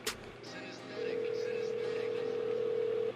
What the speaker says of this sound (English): Trying to get Humvee on the line